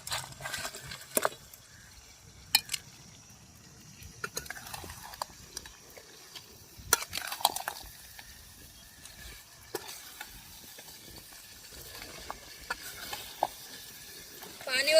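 Crabs being stirred into sizzling masala with coriander in a pan, probably over a wood-fired stove outdoors by a river: quiet scraping stirs and clacks come in irregular bursts over a soft, steady frying hiss, with no talk.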